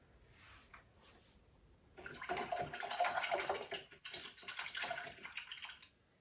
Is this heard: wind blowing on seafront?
no